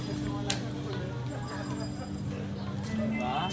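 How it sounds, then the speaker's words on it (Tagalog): Horse hooves clip-clop at a walking pace in an outdoor market setting, a light rhythmic clatter heard under near, continuous talking. "So, dyan yung kabayo, guys."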